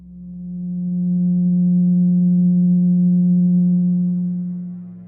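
A steady, pure low 180 Hz sine tone holds at one pitch for about five seconds, swelling in gently and fading out at the end.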